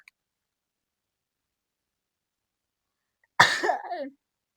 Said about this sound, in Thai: จามหนึ่งครั้งนี่คนนินทาบ่เฮ้ยหรือคนคิดถึง